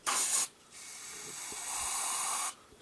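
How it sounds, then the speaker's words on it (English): A can of brake cleaner hisses in a short spray burst, pauses, then sprays again in a longer steady hiss lasting nearly two seconds, during a brake pad and rotor job. "Okay, we got the brake cleaner."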